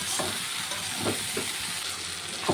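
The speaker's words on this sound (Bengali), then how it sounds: "দিয়ে বেগুনটাকে ভেজে নেব" Eggplant fries in fish oil with a steady close hiss and sizzle, with a few soft stirring scrapes breaking through.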